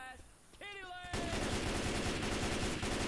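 An M16 rifle in Left 4 Dead 2 opens up in a sustained loud burst of rapid gunfire after a short whining tone and faint earlier sounds.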